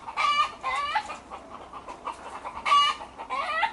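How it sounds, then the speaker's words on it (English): Peacocks roosting up in a tree give loud, harsh calls, with two strong bursts at the start and another pair near the end, close by and alone with no talk. "Those are the peacocks roosting."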